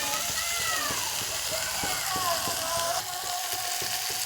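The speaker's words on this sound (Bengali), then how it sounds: "এখন এই যে মশলাটা কষাচ্ছি, একটু তেল ছাড়লেই বুঝতে পারবো যে মশলা কষানো হয়ে গেছে" Masala spice paste frying in oil in a home kitchen pan, a steady close sizzle and crackle with soft bubbling pops, continuing while someone talks over it.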